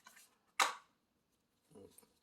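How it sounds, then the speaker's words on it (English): A micro servo is unpacked from styrofoam packaging: a sharp, close scrape and squeak of foam on the box, then brief faint rustles and creaks in a quiet room. "Comes packaged with some styrofoam here"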